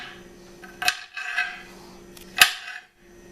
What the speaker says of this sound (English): A little bit easier to cut than the onion.